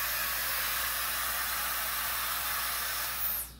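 A hair dryer blows steadily on a malamute after its bath, giving a loud, even rushing hiss that holds for several seconds and then drops away as it is switched off.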